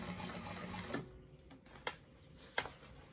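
A sewing machine stitches a seam on a fabric bag, a quiet, steady mechanical whir with a few soft clicks and taps, faint and close by.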